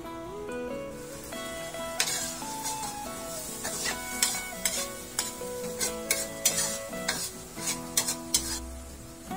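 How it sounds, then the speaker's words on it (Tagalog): A spoon stirs thickening sauce simmering in a pan, giving a run of sharp scrapes and clicks over a soft sizzle, with music playing throughout. "Haluin lang natin yan mabuti at hayaan muna natin yung kumulo until magmantika at lumapot yung ating sauce"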